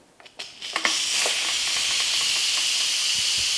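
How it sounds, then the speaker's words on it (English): Steam rushes loudly from the vent of an Instant Pot during a quick pressure release, starting with a few clicks and sputters, then settling into a steady, strong hiss close by. "It takes a little bit of time for that steam to be released and the float valve to float down"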